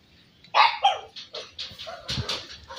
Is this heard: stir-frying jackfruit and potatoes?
no